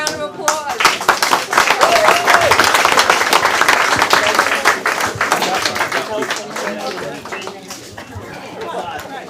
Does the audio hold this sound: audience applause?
yes